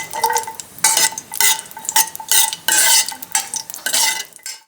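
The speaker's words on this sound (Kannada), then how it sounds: "ತುಪ್ಪ ಕಾದ್ಮೇಲೆ 10-12 ಗೋಡಂಬಿ ಚೂರು, ಸ್ವಲ್ಪ ಕೆಂಪುಗಾಗೋವರೆಗೂ ಇದನ್ನು ಹುರ್ಕೊಳ್ಳೋಣ." Cashew pieces fry in hot ghee with a steady sizzle while a spoon stirs and scrapes a pan in repeated bursts, close and fairly loud, with no talking.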